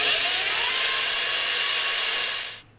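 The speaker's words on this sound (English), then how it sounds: "I'm going to pre-drill some holes for the anchors that are going to hold the screws into the drywall." Power drill pre-drilling anchor holes in drywall, one loud, steady high-pitched whine lasting a couple of seconds before it abruptly cuts off, close up with no talk.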